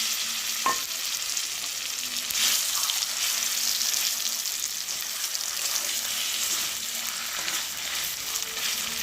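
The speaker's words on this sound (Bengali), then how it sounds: "আর এখন আমি এই যে বটবটি বাটাটাকে মধ্যে ঢেলে দেবো।" Ground bean paste hits chopped onions frying in mustard oil, giving a continuous crackling sizzle with stirring scrapes, moderately close and steady throughout, no voices.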